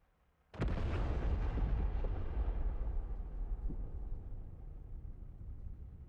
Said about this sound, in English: Should see our bombs exploding very soon